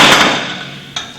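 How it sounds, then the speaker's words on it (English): A compaction hammer strikes soil packed in a laboratory mold during a standard soil compaction test, with a loud thud at the start and a second sharp blow near the end, close and with no voices. "I take my hammer and I'm going to put it in the mold, and I'm going to do this 25 times."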